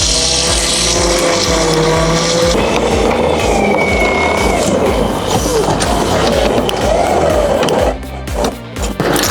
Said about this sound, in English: we're gonna go ahead and pull the winch out, strap it up, and pull it